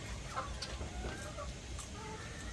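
A chicken clucks faintly in an outdoor rural setting in Thailand, with soft intermittent calls over steady background noise.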